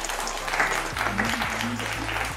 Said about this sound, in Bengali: একটা জোরে হাততালি হয়ে যাবে।